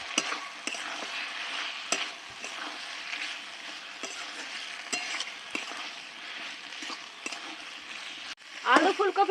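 Fried potato and cauliflower tipped into a sizzling spice paste in a pan, with steady frying hiss, scraping stirs and a few clinks, turning to louder, sharper spatter at the end, close up and with no talk over it.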